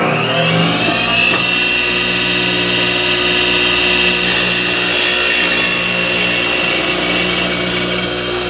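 A power sharpener grinds a wood turning chisel, a continuous loud, high whine with a steady motor hum underneath, close by and uninterrupted.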